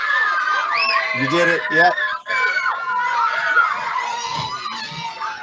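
Excited children cheering and screaming in a classroom, a loud, dense crowd of high shrieks and whoops with an adult voice speaking briefly amid the noise.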